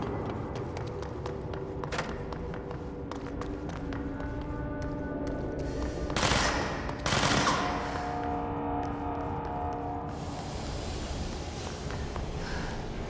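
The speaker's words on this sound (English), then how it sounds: "Who's shooting?" Rapid gunfire from the video game Control, bursts of shots cracking over a dense, busy game soundscape, with a louder flurry of blasts around the middle of the clip.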